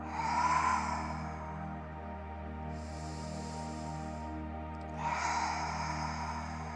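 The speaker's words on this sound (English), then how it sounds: "Visibly see and audibly hear that breath" A slow, audible exhale during a guided healing meditation, with soft breathy bursts at the start and again near the end over a steady low hum, and no talking.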